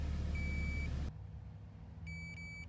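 A BlackVue Power Magic Ultra dashcam battery pack gives two short, clean electronic beeps, then after a quieter gap a second pair of beeps follows. The tones are thin and high over a low rumble.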